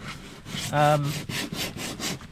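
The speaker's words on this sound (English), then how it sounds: "Another day of sanding the deck, and I'm doing it by hand" Quick rhythmic back-and-forth scraping strokes, close and steady, of hand sanding paint off the wooden deck of a 32-foot sailboat, with a brief hum partway through.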